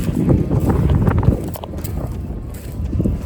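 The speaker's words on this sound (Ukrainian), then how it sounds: "Вітер піднявся дуже сильно" Strong wind buffets the microphone with a steady, rough roar and low rumbling gusts, continuous throughout with no voices.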